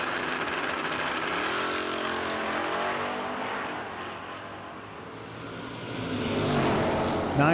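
Drag racing cars, an S10 and a Camaro, roar down the track at a no-delay nationals event, a loud sustained engine drone that swells again near the end, with no talk.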